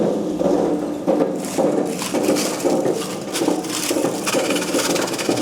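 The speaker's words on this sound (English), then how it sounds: "so that is the sound of the crushing for pineapple crown leaf." A crusher machine grinds dried pineapple crown leaves with a loud, continuous rough crunching and rattling, pulsing in uneven bursts, close by and without talk.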